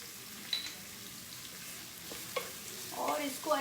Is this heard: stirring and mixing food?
yes